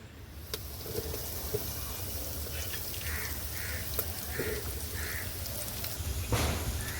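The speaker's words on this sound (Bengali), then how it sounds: "এবার এই তেলে ছেড়ে দেবো এই বেগুনটা" Eggplant slices fry in moderately hot oil, giving a continuous close crackling sizzle like light rain, with a few faint pops and soft tonal blips over the hiss. No one speaks.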